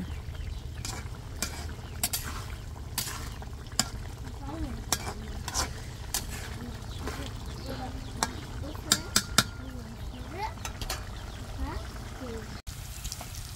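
Sliced onion fries in a pan with cumin paste, a steady sizzle under scattered stirring clicks and scrapes, while a voice talks quietly in the background.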